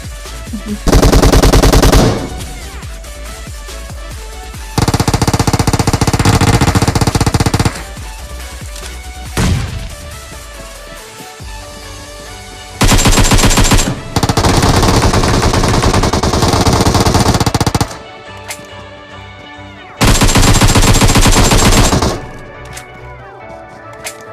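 Gunfire in the mobile battle royale game PUBG Mobile, heard as loud sustained bursts of rapid automatic shots separated by quieter gaps, with repeated bursts through the clip.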